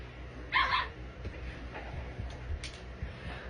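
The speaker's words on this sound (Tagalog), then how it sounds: "naririnig yung aso namin." A household dog barks once at a distance, a short faint yip followed by a few softer whimpering sounds in an otherwise quiet room.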